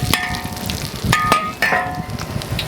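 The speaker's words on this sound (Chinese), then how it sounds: "油温烧热，下入姜" Ginger slices dropped into hot oil in a wok for braised oxtail, giving a close, continuous sizzle with a few sharp clatters and crackles.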